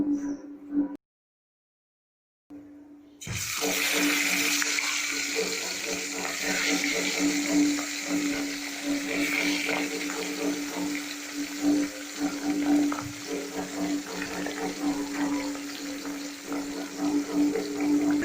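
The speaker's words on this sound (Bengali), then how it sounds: "এগুলো আমি কড়ায় হালকা ভেজে নেব" Pomfret pieces rubbed with salt and turmeric fry lightly in a kadai, a steady broad sizzle that starts after a short silent gap and carries on close and even.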